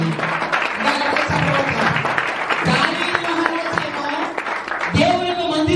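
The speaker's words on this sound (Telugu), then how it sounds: "గట్టిగా చప్పట్లు కొట్టి" A church congregation at a Friday worship service claps loudly and steadily throughout, the dense applause running under a preacher's raised voice.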